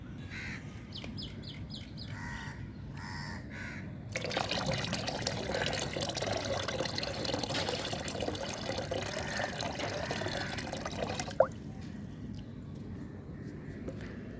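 Papaya solution pours and splashes into a bucket of water for about seven seconds, a loud rushing flow, while crows caw in the background before and after.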